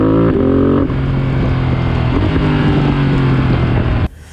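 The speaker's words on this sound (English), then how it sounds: "It even throws in a cheeky auto blip for you." A Ducati Multistrada 1260S motorcycle roars loudly as it downshifts with the quick shifter, and an automatic throttle blip makes the engine pitch jump. Heavy wind rush runs throughout, and the sound cuts off abruptly near the end.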